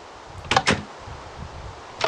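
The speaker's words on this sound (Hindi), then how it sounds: "क्लिक किया, दरवाज़ा बंद हो जाएगा खुद ही" Door in the Minecraft video game closing by itself, two quick wooden clacks close together followed by a third knock a moment later, sharp and fairly near against a quiet background.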